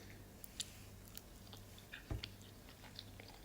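Close, quiet chewing of oatmeal pancakes with blueberries: soft, moist smacks and small clicks at irregular intervals, with one slightly louder bite partway through, over a faint steady low hum and no talking.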